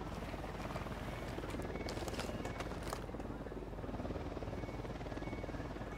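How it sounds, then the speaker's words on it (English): A helicopter flies in the video game Ghost Recon Wildlands, a steady, whirring rotor drone that holds at a moderate distance throughout. "There's a helicopter somewhere."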